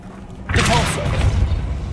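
Repulsor spell cast in Hogwarts Legacy: after a quiet start there is one sudden whooshing burst with a low thud, followed by a lingering rumble and a brief voiced tone.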